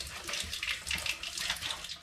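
Cold tap water runs steadily from an outdoor faucet onto a T-shirt being soaked, a continuous close splashing rush with no talk over it.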